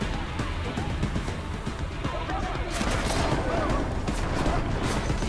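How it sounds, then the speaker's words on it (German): Gunfire in the video game Deus Ex: Mankind Divided, with police shooting at the player, builds into a dense, steady volley of rapid shots over a constant background din, growing louder after a few seconds. "Wer oder was schießt denn da auf mich?"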